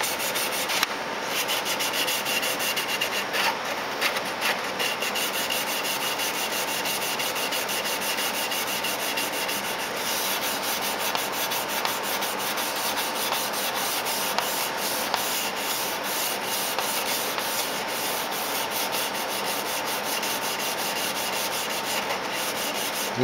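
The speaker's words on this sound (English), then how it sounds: "the surface is sanding out nice and level" Spot putty on a styrene model submarine kit is sanded by hand, producing a steady, close, raspy rubbing that continues evenly without any talk.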